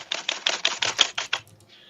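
Keys clatter on an Apple Mac computer keyboard in a Star Trek IV film scene, a quick, even run of about eight crisp clacks close up, then the typing stops.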